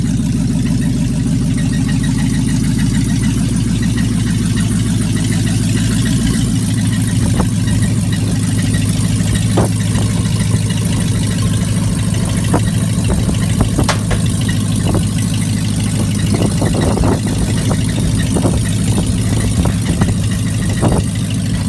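A Chrysler 300C with a 5.7 Hemi V8 runs steadily and loud throughout, its low rumble idling as the car is moved off a trailer, with scattered clicks and knocks over the engine and no talk.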